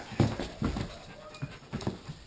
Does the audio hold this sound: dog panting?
yes